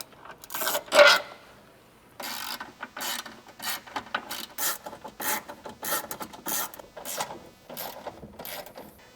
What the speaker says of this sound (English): Now we will be removing 2 E14 bolts from each side that is holding the roll cage frame in place.